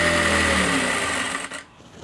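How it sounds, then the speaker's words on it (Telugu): Sewing machine stitching the side seam of a blouse, a steady rapid whirring run close up that slows and stops near the end, with no talk. "చూసుకుని ఇలా పట్టుకుని స్టిచ్ చేసుకుంటూ వచ్చేయండి."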